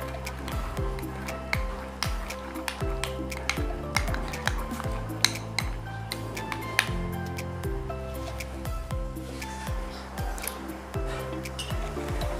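Garlic bread topping being stirred and mixed with basil in a bowl, a steady run of scraping and clinking spoon strokes with soft squishy mixing throughout, close and continuous.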